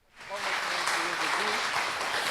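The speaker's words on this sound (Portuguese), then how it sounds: "Dê uma salva de palmas para o Senhor Jesus." Church congregation breaking into applause that swells quickly and holds as a dense, steady clatter of many hands filling the room, with some voices mixed in.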